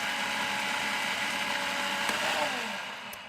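A Cuisinart FP-8SV Elemental 8-Cup food processor runs on low speed, a steady close motor whir with blade churning that holds even and begins to wind down at the very end.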